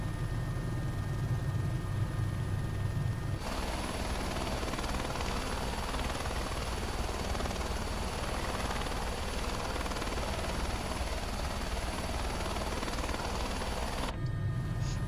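CowanSim Airbus H130 helicopter in Microsoft Flight Simulator, a constant dense turbine and rotor roar that holds steady and loud at close range, with a softer idle hum at either end.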